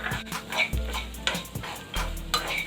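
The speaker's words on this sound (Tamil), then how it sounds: "இந்த நேரத்தில் நம்ம எடுத்து வச்சுருக்க தேங்காயை இதில் போட்டு வறுத்து எடுத்துடலாம்." Grated coconut fries in ghee in a pan for banana-leaf kolukattai, with a soft sizzle under several distinct clinks and scrapes of a spoon against the metal pan, no voices.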